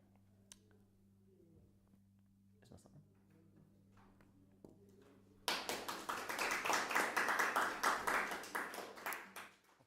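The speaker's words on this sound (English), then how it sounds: "we'll definitely have a wonderful rousy round of applause for Mr. Brown" After a few quiet seconds with faint taps, a crowd bursts into steady clapping that lasts several seconds before fading out.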